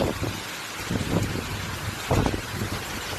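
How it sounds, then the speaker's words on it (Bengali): Steady broadband hiss of heavy rain with hail and wind gusting in low rumbling surges, loud and close, no voices. "আর কি জোরে যে বৃষ্টি হচ্ছে"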